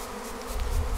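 A honey bee swarm that has just poured out of its hive and is being collected buzzes steadily at close range, with the hum thickening and growing louder in the second half.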